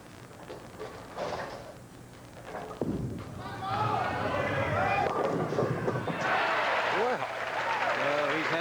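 A bowling ball struck at a 1981 PBA doubles telecast, rolling with a low rumble, then a clattering crash of pins and crowd noise, with commentators talking throughout.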